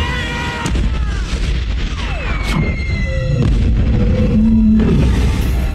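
Loud booming cannon blasts and explosion bursts in a film scene, over a dense, noisy soundtrack with swooping tones.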